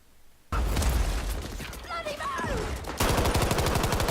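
Rapid bursts of gunfire in the Battlefield V video game, loud and dense throughout, partly under a voice speaking over the action.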